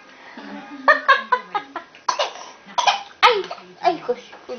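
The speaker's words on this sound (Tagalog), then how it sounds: "Inuubo." A baby coughs repeatedly in short bursts, mixed with a few high little vocal sounds, near and fairly loud.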